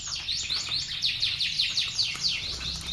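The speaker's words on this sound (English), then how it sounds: "Yeah, so these are canaries." Small colorful pet canaries chirping in quick, repeated high tweets and trills, close and steady for the whole stretch with no talking.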